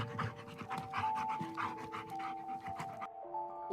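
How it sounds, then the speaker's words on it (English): Wolf panting in the Wildcraft video game, a steady run of quick breathy pants over a layered ambient backdrop with sustained tones, loud and close, stopping abruptly near the end. "panting,"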